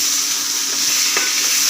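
Chopped onion hits hot oil and sizzles loudly and steadily up close, a dense continuous hiss with a faint stir.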